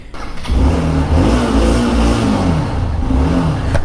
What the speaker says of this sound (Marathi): कोल स्टार्ट केलेली आपली बाईक